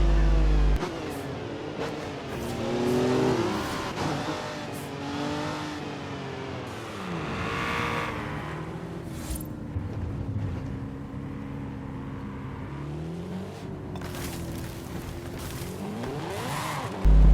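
An Aston Martin Vulcan AMR Pro in a racing video game, its engine revving up and down steadily as it is driven hard through corners, loud and continuous with shifting pitch throughout.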